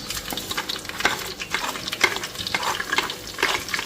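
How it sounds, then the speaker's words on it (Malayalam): Cinnamon, fennel and cardamom fry in hot ghee and oil in a clay pot for chicken biryani, a close crackling sizzle broken by quick rhythmic scraping strokes as the spices are stirred. "ചൂടായ എണ്ണയിലേക്ക് പട്ട, പെരുംജീരകം, ഏലക്ക ഇട്ട് മൂത്തതിന് ശേഷം"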